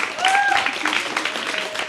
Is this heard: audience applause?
yes